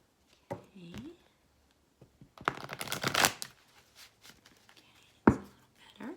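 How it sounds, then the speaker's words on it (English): Tarot cards are shuffled close by in a brief burst of fast riffling, with a few taps before and after and a soft voice in the background. "that was a ridiculous shuffle"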